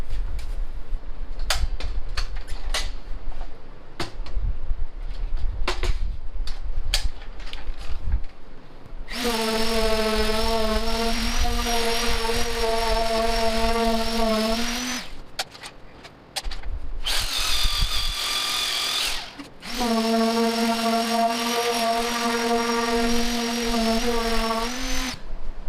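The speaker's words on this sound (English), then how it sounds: "I could have shown you more sanding" A loud Harbor Freight palm sander whines steadily with a strong harmonic hum while sanding tables, starting and stopping in long bursts, after a stretch of quieter knocking and handling noises.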